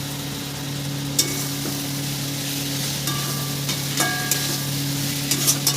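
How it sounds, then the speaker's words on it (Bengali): Chicken stirred into a spiced masala of cooked-down tomato in a pan, giving a steady close sizzle and fry with a few scraping spoon clinks; no talking. "এবার আমি দিয়ে দেবো চিকেনটা দিয়ে ভালো করে নাড়িয়ে নেব।"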